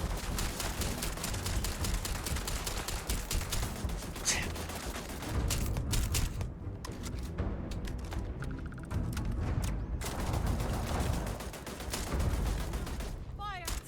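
A fusillade of rapid gunfire aimed at a turret in Starfield, bursts of shots repeating quickly over a dense background of combat noise, with a short lull midway before firing resumes.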